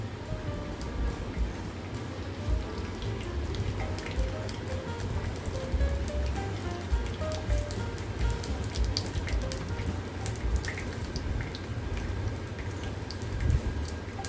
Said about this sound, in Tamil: கடுகு பொரிய ஆரம்பிச்சிருச்சு, வெந்தயமும் சேர்த்துக்கலாம்